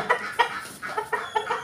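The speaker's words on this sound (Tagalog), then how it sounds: "Yung mga pabo." Turkeys and chickens clucking close by in a quick series of short, nasal calls, several birds overlapping with brief gaps between bursts.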